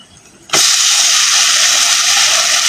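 Leafy greens, Malabar spinach, dropped into a hot spiced pan burst into a sudden loud hissing sizzle after a half-second of quiet, then keep sizzling steadily.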